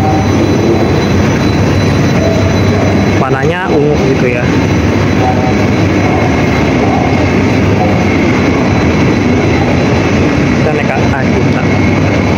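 Steady loud rumble of the KLIA Transit airport rail link train running along rails in Malaysia, with a voice speaking briefly over the noise.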